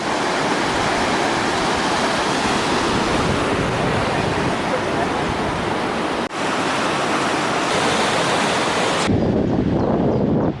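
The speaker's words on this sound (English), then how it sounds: "you can probably hear the roar of the river below" A river roars steadily far below a Norwegian fjord, a broad, continuous rush of water mixed with wind buffeting the microphone, with no break except a brief dip near the middle.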